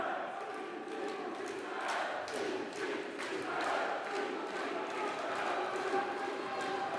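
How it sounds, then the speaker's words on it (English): A boxing crowd in Blackpool chants Seasiders, a sustained roar of many voices rising and falling in rhythmic waves, loud and dense throughout. "So the crowd going up again with the noise now. With a chant of Seasiders."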